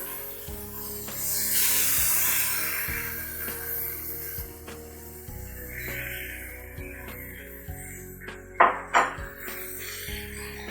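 Chicken stir-fries in olive oil in a pan, a broad sizzling hiss that swells and fades, punctuated by clinks and scrapes of utensils against the pan, with a few sharper bursts near the end.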